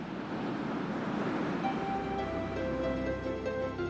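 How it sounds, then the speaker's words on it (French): Rough, storm-stirred sea surf roars as a steady, dense wash of water noise, joined partway through by faint sustained tones. "la mer restera agitée pendant plusieurs jours"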